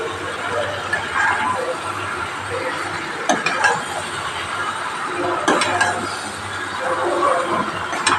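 Fried potatoes are stirred into spice paste in a pan, giving a continuous close scraping and sizzling with intermittent clacks of the spoon against the pan.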